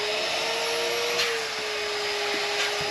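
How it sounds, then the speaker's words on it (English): Vacuum cleaner hoovering up dust aboard a boat during a refit, a steady close whine with a constant pitch and no pauses. "this is how we finish our day, hoovering up the dust and crap before we settle for the evening"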